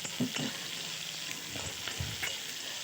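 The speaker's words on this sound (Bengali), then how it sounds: "কুচোনো ক্যাপসিকামগুলো দিয়ে দেবো এগুলো কিন্তু খুব বেশি ভাজা যাবে না" Chopped capsicum sizzling in a pan, a steady hiss with a few soft stirring scrapes near the start and middle, no voices.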